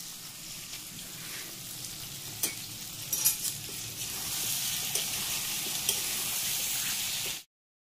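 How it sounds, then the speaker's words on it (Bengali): Leafy greens (shak) fry in a pan at night in a home kitchen, giving a continuous crackling sizzle that grows louder midway, with sharp clicks and spatters on top, before cutting off abruptly. "তাই শাক ভাজবো"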